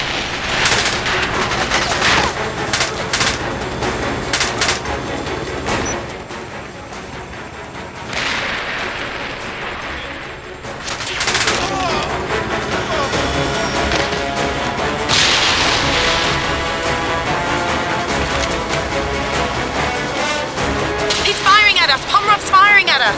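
Rapid bursts of automatic gunfire and heavy weapon blasts from the James Bond 007: Blood Stone game during a boat chase, loud and nearly continuous, with occasional voices talking over the shooting.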